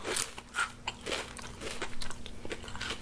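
Repeated crisp crunching bites and chewing of cheddar rice chips, close and loud, in an irregular rhythm of sharp bursts.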